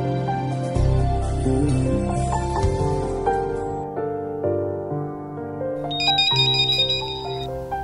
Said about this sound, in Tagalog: Ako na lang masabas ng telepono sa akong lamisa, Sheila.